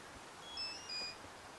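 A few short, high electronic beeps from a carp fishing bite alarm chirp in quick succession over quiet background hiss during a night fishing bivouac.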